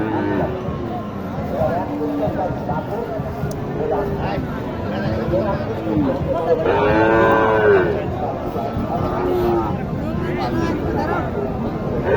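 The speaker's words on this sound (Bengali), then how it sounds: "ভালো মানের একটি সাইওয়াল" Sahiwal cattle at a busy livestock market low repeatedly in drawn-out moos, one loud bellow standing out near the middle, over constant crowd chatter and nearby talking.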